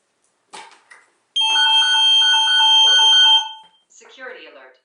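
A Nest Secure security alarm, just ripped from the wall, blares a loud steady electronic tone for about two seconds, with brief speech before it and a synthesized voice after.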